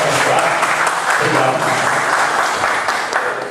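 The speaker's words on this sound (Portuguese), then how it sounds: "uma salva de palmas para esse moço, porque ele merece" Steady applause fills a city council chamber during an ordinary session, dense clapping from many people that holds close and loud for a few seconds before tapering slightly at the end.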